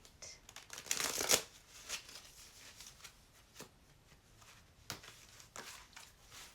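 Tarot cards shuffled by hand, with a loud riffle burst early on followed by softer scattered taps and card slaps, close and quiet, with no talking.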